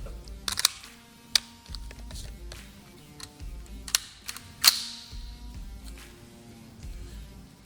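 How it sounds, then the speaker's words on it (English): An IWI Carmel 5.56 semi-automatic rifle has its bolt released at a shooting range: a scatter of sharp metallic clicks and clacks, with one louder snap near the end, close up and without talk. "Feels smooth, just releasing that bolt."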